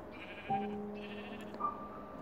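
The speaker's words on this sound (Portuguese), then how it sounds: "Tem mais ovelha e porcos lá, beleza." Sheep in the video game Minecraft bleat in a few short, nasal calls, one after another over a low ambient background, fairly close and clear.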